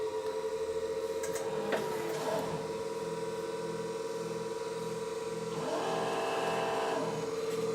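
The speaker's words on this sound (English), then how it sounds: "You can hear that the main service motor inside the machine has been running" The main motor of a drill maker machine runs steadily, a continuous mechanical drone with a strong tonal hum and some brief rattling bursts, close and even throughout.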